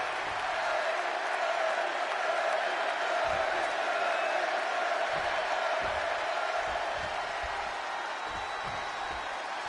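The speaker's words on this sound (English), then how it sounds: "And just listen to this crowd here in Chicago." Arena crowd in the wrestling video game WWE 2K26, set in Chicago: a dense, constant roar of cheering and applause fills the whole stretch, with faint commentary voices underneath.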